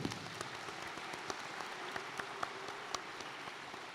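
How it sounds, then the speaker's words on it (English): Audience applause after a presentation at MINECON 2015, a steady wash of clapping from a crowd with scattered sharper claps standing out, sustained evenly throughout without voices. "Round of applause for Eric's presentation."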